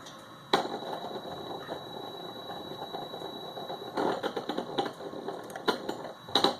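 A Caterpillar VGT actuator runs a sweep on a calibrator: quiet mechanical whirring with bursts of rapid clicking at intervals over a faint steady hum.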